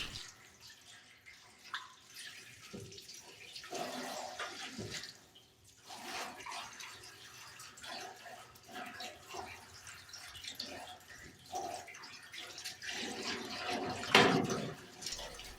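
Water draining out of a maple syrup evaporator pan after rinsing, a steady watery wash with dripping and splashing that swells and fades, running alone without talk.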